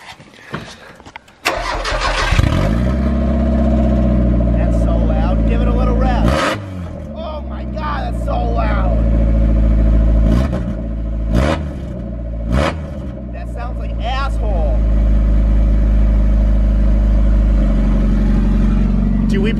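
A Mazda Miata engine cranks, catches and fires up, then revs repeatedly in loud close surges before settling into a rough idle, with people talking nearby.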